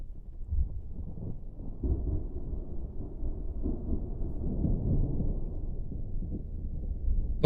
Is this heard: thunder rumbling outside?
yes